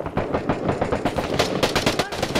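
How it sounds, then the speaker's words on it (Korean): Rapid bursts of automatic gunfire crackle across a bridge in the Iraq war game Six Days in Fallujah, loud and dense shots stuttering in irregular volleys for a few seconds. "야 저 건너편에서 쏜다!"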